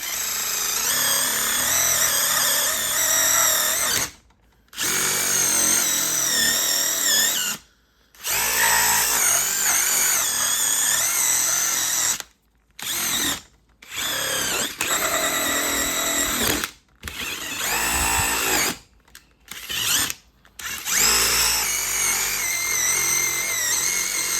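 A polishing wheel buffs a tarnished nitro muffler with a loud, steady motor whine that runs in long stretches, cutting out briefly several times before spinning up again.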